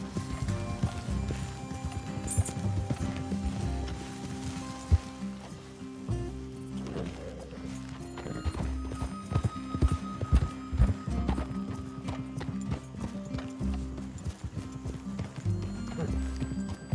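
Horses clip-clopping at a trot in Red Dead Redemption 2, steady hoof beats running nearly throughout with an occasional whinny, set against a busy game soundtrack.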